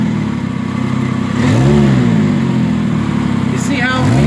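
A car engine, loaded in drive while stationary, revs up in two rising and falling sweeps over a steady rumble, heard loud and close, with talk over it.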